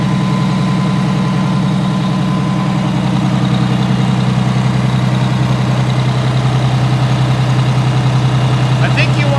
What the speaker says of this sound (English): Okay, so what I really need to do is rev it up.